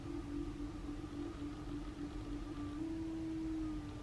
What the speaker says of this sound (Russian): Вы слышите этот звук? Вот моя машина издает.